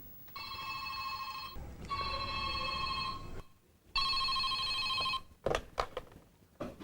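An old landline telephone bell rings in three long bursts, each about a second and a half with short silent gaps, followed by a couple of clicks as the line connects to a police department switchboard.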